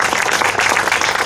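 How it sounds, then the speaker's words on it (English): Audience clapping at an outdoor groundbreaking ceremony in Baton Rouge, a dense, steady patter of many hands sustained at an even level throughout with no talk over it. "Let's give him a round of applause."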